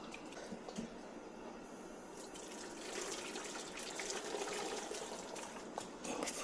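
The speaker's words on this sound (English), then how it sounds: "I'm going to use some of this water." Water pours and splashes steadily in a kitchen while Mexican food is cooked for Cinco de Mayo, a continuous faint trickling and rushing that swells slightly midway, with no talk over it.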